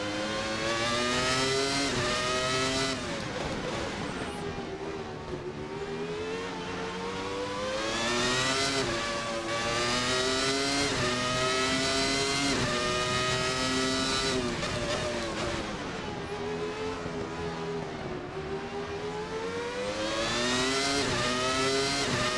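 A Williams FW19 Formula One car in the VRC racing simulator screams at high revs, rising through the gears with sharp shifts and drops under braking. The engine sound is loud and continuous from close by, with no voices.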